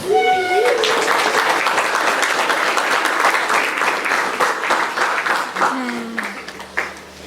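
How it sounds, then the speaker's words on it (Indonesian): A crowd claps steadily for several seconds for parents at a school orientation, dense applause that tapers near the end, with a voice speaking over the start and again near the end. "Sekali lagi tepuk tangan untuk orang tua."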